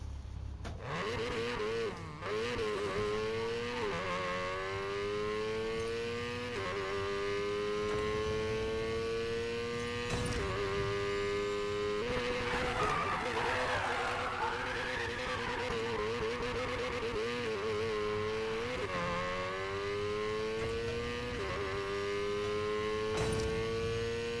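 A Need for Speed car engine drones and whines steadily, sounding like a broken can opener, pitch climbing and dropping through gear shifts, with occasional tire squeals and skids.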